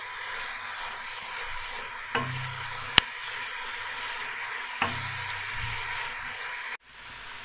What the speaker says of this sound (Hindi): अब 2 मिनट के लिए इसको भून लेंगे।